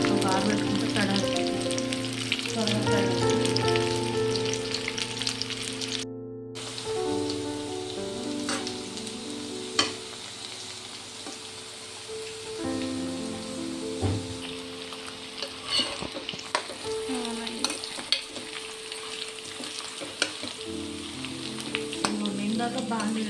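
Sliced bitter gourd (karela) frying in a pan with a dense, rain-like sizzle that holds throughout, broken by occasional stirring clatters and utensil knocks, close by with no talk.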